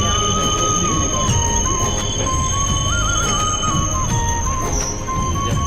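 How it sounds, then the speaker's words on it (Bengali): A passenger train brakes toward a halt near a bridge, with loud, sustained metallic wheel squeals wavering in pitch over a steady rumbling rail noise. "মনে হচ্ছে এখানে ট্রেন দাঁড়াবে"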